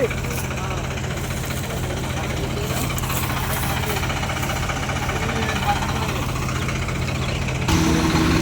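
Sonalika 47Rx tractor engine labouring as it pulls a fully loaded trolley through deep mud, a loud, steady diesel throb with knocking pulses that shifts in tone near the end.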